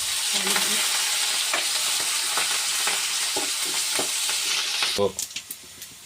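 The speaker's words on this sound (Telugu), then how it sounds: "తాలింపు బాగా వేగిందండి." Onions and curry leaves sizzle in a hot tempering for drumstick-leaf dal, a steady close-up frying hiss with stirring scrapes, ending in a few sharp utensil knocks.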